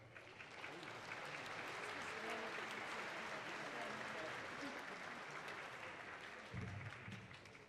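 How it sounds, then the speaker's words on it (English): Sustained applause from a commencement audience honoring absent faculty, a dense steady wash of many hands clapping throughout, with faint voices mixed underneath. "And we will applaud for them in their absentia."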